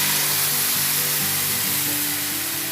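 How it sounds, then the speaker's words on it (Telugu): Boiled and cooled milk pours onto carrots cooking in a pan for carrot halwa, giving a loud, continuous hiss and sizzle that holds steady throughout. "బాగా 7-8 నిమిషాలు ఇలా కలిపిన తర్వాత కాచి చల్లార్చిన పాలు పోసుకోవాలి."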